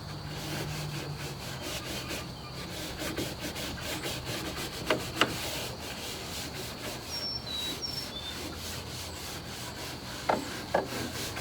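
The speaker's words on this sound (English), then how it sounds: "I just scrubbed the porch off with the dry brush again" A dry brush scrubbing a porch floor during spring cleaning, with steady rough rubbing strokes throughout and a few sharper knocks near the middle and end.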